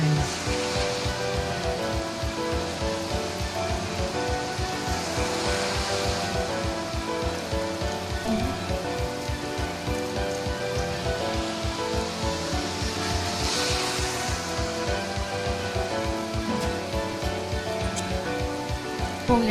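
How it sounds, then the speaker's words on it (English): Heavy rain pours down steadily during a storm with flood alerts, a dense, constant hiss of drops drumming on surfaces that stays loud and even throughout, with no voices. "Oh yeah, the rain's gone heavier."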